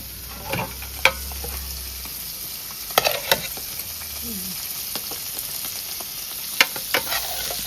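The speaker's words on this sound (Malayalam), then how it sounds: "ആ സമയം അവിടെ മീൻ പൊരിക്കാൻ എണ്ണയ്ക്ക് ഇട്ടു കേട്ടോ" Fish coated in turmeric, chilli and salt fries in hot oil, making a close, steady sizzling hiss with a few sharp pops and taps, and no talk.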